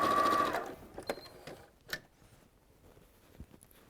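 A sewing machine runs a quarter-inch quilt seam: a brief burst of stitching, then a few faint scattered clicks and taps from the machine in a quiet room.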